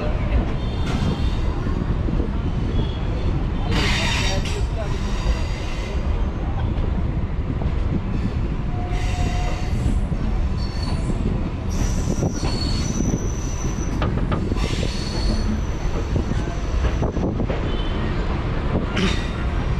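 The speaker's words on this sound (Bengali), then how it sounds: "তাহলে বন্ধুরা, ট্রেন এখন আমাদের ছেড়ে দিয়েছে আমাদের উৎস শেওড়াফুলি জংশন স্টেশন দিয়ে।" A Seoraphuli–Tarakeswar local train pulls out of the station, its wheels squealing in long metallic screeches over a constant rumble of rolling carriages, with faint voices underneath.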